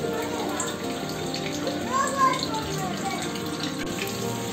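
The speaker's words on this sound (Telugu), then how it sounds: "ఇప్పుడు ఈ చింతపండు రసాన్ని ఇందులో యాడ్ చేసుకోవాలి" Tamarind juice pours into a pot of goat head curry as a steady liquid trickle and splash close by, with a faint voice in the background.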